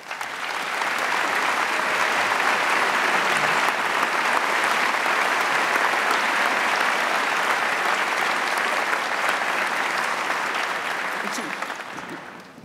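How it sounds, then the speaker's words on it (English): Sustained, loud applause for the faculty and vice provost at a 2017 kinesiology commencement: a dense crowd claps continuously for about twelve seconds, swelling in quickly and tapering off at the end. "let's give them all a round of applause"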